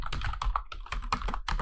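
Rapid, irregular clacking of keys on a computer keyboard as code is typed in a Linux terminal, close and steady with short pauses between bursts.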